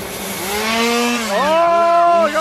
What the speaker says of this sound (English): Oh, we got a chainsaw out!